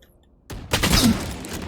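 A Vandal rifle sprays a rapid burst of gunfire in the game Valorant. The loud, close volley starts abruptly after a brief quiet and keeps going to the end.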